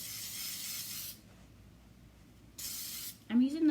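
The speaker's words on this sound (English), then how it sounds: "It's like the 3-way hairspray by Lange. I have it set on heavy hold." Lange 3-way hairspray set on heavy hold sprayed in two sustained hissing bursts, each about a second long, close to the listener and separated by a quiet gap, followed by someone talking.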